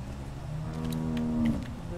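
A single cow in The Walking Dead video game lets out one drawn-out, tonal moo that swells and then fades, heard alone and fairly quiet.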